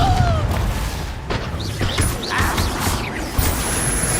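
Explosive spell blasts and bangs in Hogwarts Legacy, with several sharp impacts and crashes over busy game sound, short magical whooshing tones in between and faint voices underneath.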